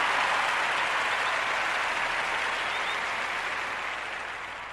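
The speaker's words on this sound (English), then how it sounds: "We gonna give him a round of applause real quick" A round of applause for a man's birthday celebration inside a barbershop, a continuous wash of clapping from a small group that holds steady and then gradually fades toward the end.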